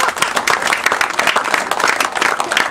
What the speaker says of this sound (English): Maybe a round of applause for any juniors there